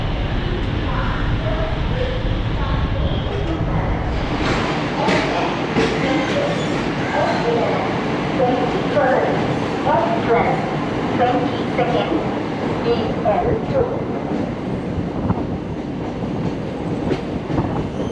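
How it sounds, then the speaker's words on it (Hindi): The Himsagar Express passenger train runs on the line, a loud, continuous rumble with rhythmic clickety-clack of the wheels heard from inside the carriage. "वैसे हमारी ट्रेन चल पड़ी है, वैसे ऑन टाइम है"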